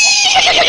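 A man imitates a horse's neigh with his voice, a short shrill whinny that quavers downward, very close and loud.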